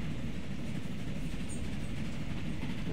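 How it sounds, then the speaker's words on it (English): A train rolls along in a railway building video game, with a continuous rumbling chug and rhythmic wheel clatter filling the moment, loud and unbroken with no talking. "There he comes, huffing and puffing for all he's worth. Come on, little train."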